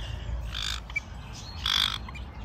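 Birds call from aviaries at the Vogelpark Waldbrücke bird park, sharp squawks and shrill chirps coming in short bursts, fairly close, over a low outdoor background rumble.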